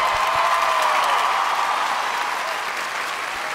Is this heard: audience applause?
yes